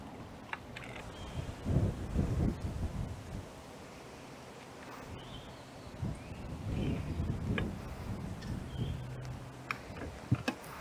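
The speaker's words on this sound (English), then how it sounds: "This wind." Outdoors during bass fishing, gusts of wind buffet the microphone in low rumbling bursts that come and go, with faint ticks between them.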